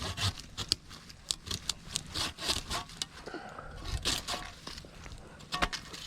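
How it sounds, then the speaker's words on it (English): A hand saw cuts through thick pigeon pea stems with quick, rhythmic rasping strokes, each stroke a sharp scrape, close and fairly loud, with brief pauses between bursts and no talking. "I'll use this saw just because it's a bit thicker."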